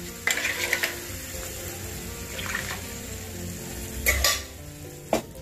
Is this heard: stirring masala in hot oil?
yes